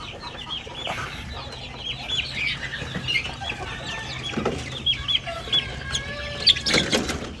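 Several chickens cluck and chatter close by, with brief high squawks, over a steady farmyard background; a louder burst near the end.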